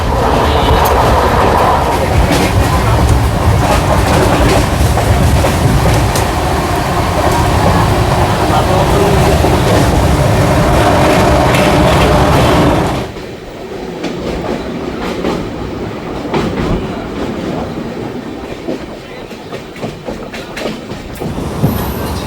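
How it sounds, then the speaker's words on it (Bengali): A passenger train rumbles steadily along the rails past New Jalpaiguri with rhythmic clatter, then the noise drops sharply to a quieter, muffled rolling with faint clicks as it arrives at a station. "ট্রেন আমাদের এসে পৌঁছালো"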